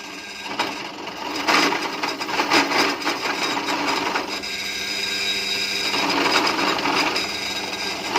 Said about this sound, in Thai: ก็ใช้สว่านแท่นหลบเอาง่ายๆเลยนะครับ